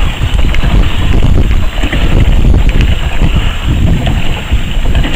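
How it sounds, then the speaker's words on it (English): Strong wind roars steadily and loudly across an Ultimate Propel 14.5 kayak out on open water, buffeting the microphone with constant rumbling gusts and no talking. "wind's picking up"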